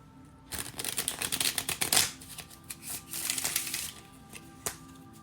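Rapid riffling bursts of tarot cards being shuffled, crisp and close, in several quick runs separated by short pauses.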